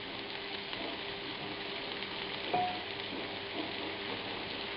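Swedish meatballs frying in a large pan on fairly high heat, giving a steady rain-like crackling sizzle throughout with one slightly louder pop, close and soft, no talk.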